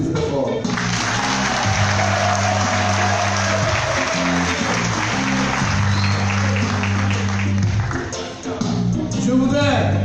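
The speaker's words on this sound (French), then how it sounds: "je voudrais vous demander de vous applaudir très fort." Loud sustained applause at a political campaign launch ceremony for a PDCI RDA candidate, a dense continuous wash of clapping with music or a steady low tone running underneath throughout.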